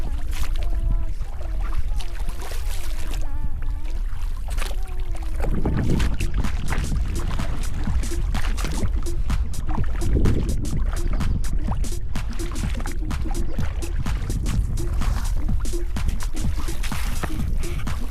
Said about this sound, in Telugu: మా బోటు ఎలా పోతుందో చూడండి.